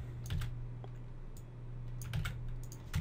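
Keys clatter on a computer keyboard in short bursts of typing with brief pauses, close and fairly quiet over a steady low hum, while code is entered into the GameMaker game engine.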